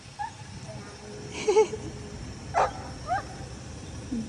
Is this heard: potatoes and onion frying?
no